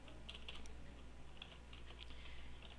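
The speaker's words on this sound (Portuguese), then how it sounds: "Vou dar só um Enter aqui, ó." A few faint, light key clicks come from a computer keyboard as the Enter key is pressed, heard quietly over a low steady room hum.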